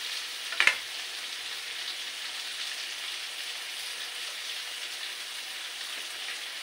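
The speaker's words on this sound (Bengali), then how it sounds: "কুমড়োটা এর সাথে কষিয়ে নেবো।" Pumpkin frying with onion in a pan, a steady, even sizzle holding at moderate volume throughout, broken near the start by one brief sharp clack of a utensil.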